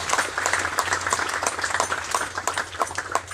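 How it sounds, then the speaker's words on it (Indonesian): A church gathering in West Papua breaks into a short burst of applause, brisk clapping from many hands at moderate volume with a low hum underneath and no one speaking. "Tepuk tangan lagi."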